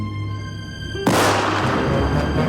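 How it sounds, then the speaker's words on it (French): A sudden loud cartoon gunshot burst cuts in after a sustained musical tone, followed by a dense, ringing crackle of nearby gunfire that continues to the end. "il entendit des coups de feu éclater tout près"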